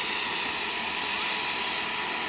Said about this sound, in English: that's a big helicopter.